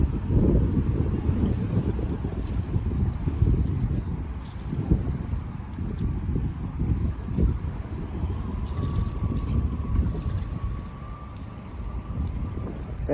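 Strong wind buffets the microphone while cycling to work in Dubai in a steady roar with gusty swells, over a low rumble like water or a moving boat.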